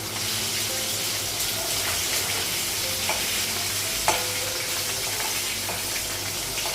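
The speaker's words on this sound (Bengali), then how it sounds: "মাছটা ভাজা হয়ে গেছে সেটা একটু" Fish frying in oil in a pan in a Bengali home kitchen gives a steady, close sizzling hiss throughout, with a few soft clicks of stirring and no voices.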